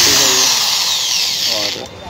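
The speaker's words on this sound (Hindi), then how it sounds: "ये मैं बोर्ड से आपको चेक कर देता हूँ इस ड्रिल को चला के।" A mini electric screwdriver drill plugged into an extension board whirs loudly and steadily, its motor pitch sliding gradually before it winds down, with someone talking over it.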